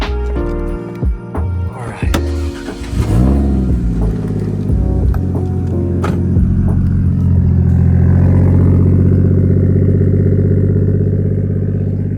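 A Toyota JZX100 Chaser with a titanium exhaust and catless APEXi downpipe starts up and settles into a loud, throaty rumbling idle with rising drone, close by, with a few clicks and bangs before it.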